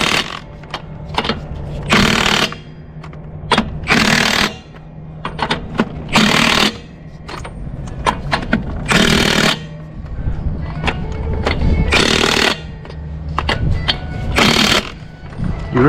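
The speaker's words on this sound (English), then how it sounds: "I think you could over torque them pretty easy with the impact." Impact wrench tightening bolts during truck maintenance, heard as repeated loud, close bursts of hammering rattle, each lasting about half a second to a second, separated by short pauses and quieter clanks.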